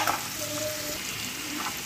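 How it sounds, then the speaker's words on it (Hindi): Onions fry in a pan for an okra (bhindi) curry, a steady close sizzle and crackle with faint stirring and no voices. "प्याज को अच्छे से ब्राउन होने तक हम भून लेंगे"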